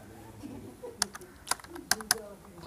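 Several crisp clicks from a computer keyboard come as a formula is typed into Microsoft Excel, spaced irregularly, with someone speaking Hindi underneath.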